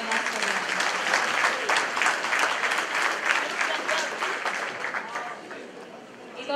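An audience claps together at a radio station party, a dense, lively round of applause that holds strong before easing off toward the end.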